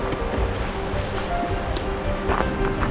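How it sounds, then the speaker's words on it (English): Water rushes steadily at a stream ford crossing in a snowy winter forest, a continuous close wash of flowing water with no talk. "We have a fun water crossing to do."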